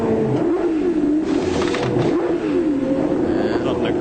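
Australian Touring Car Championship race car engine revving in the pits at Sandown in 1995, a steady rising and falling drone with wavering pitch, loud and continuous throughout.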